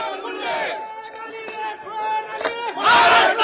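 A crowd of political party supporters chants slogans at a gathering, loud and roaring, with the chanting swelling strongly toward the end.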